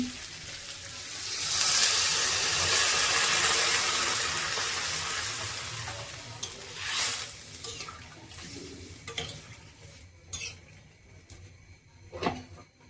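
Broth poured into a pan of sautéed potatoes with green chilli for a Bengali thankuni leaf curry, a steady rushing pour and loud hiss of sizzling that gradually subsides, followed by scattered clinks and light stirring sounds.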